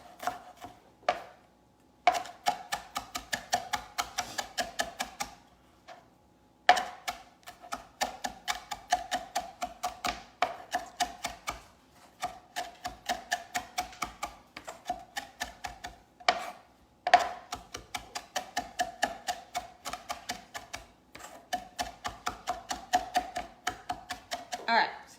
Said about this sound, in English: finally chop that up